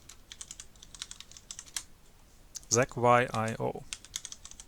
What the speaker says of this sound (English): you simply type in pip install